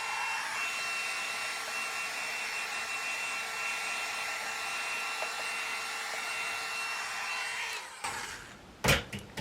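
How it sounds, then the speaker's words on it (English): A small Conair blow dryer drying a stamped paper card gives a steady, close, loud whoosh and whine for about eight seconds, then switches off, followed by a few handling clunks. "it's like a little blow dryer"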